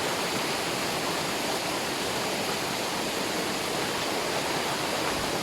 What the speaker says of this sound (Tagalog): Falls man, falls.